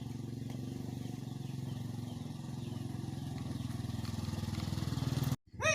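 A motorcycle engine idles steadily nearby with a throbbing low rumble, then briefly cuts out and revs back up at the end.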